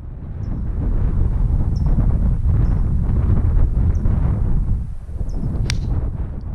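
Steady wind buffeting across a downhill golf course hole, a loud continuous rushing roar with low rumbling gusts that dips briefly near the end, no talk.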